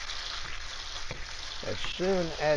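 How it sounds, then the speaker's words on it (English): A pound of ground beef sizzles in bacon grease in a pan, a soft steady frying hiss while someone talks over it. "1 pound of hamburger cooking in the bacon grease"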